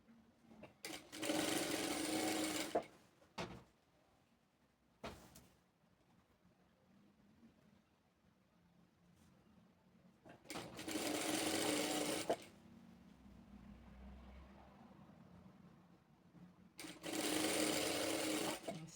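Sewing machine stitching an appliqué patch and border strip onto a cotton tea towel, running in three loud bursts of a few seconds each with quiet pauses and small handling sounds between.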